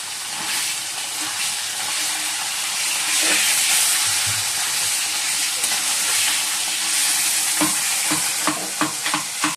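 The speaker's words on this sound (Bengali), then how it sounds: "মাছগুলো ভেজে নিচ্ছি" Hilsa fish sizzling and spitting in hot oil, a steady loud hiss with a few sharp pops and utensil clinks toward the end; no voices.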